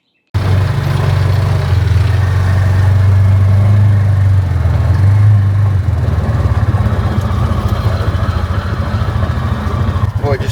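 A TYM 48 horsepower tractor runs steadily with an implement attached, giving a loud, continuous low engine drone that holds throughout with slight variations in load.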